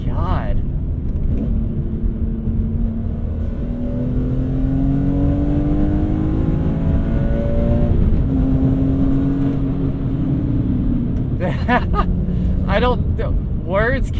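A BMW E46 M3 ZCP engine on track drones loud and steady, with its pitch rising and shifting as it accelerates, while people talk over it.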